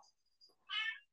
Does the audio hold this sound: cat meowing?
yes